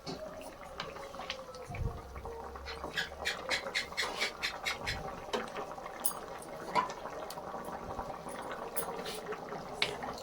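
Sour curry with vegetables and small shrimp boils steadily in a pot, giving a continuous close bubbling with frequent small pops and gurgles and no talk.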